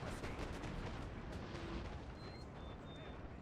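Dense, rumbling musket volleys and artillery booms from a Napoleon: Total War battle, a continuous rolling barrage of overlapping shots at moderate distance, faint and without clear separation between blasts.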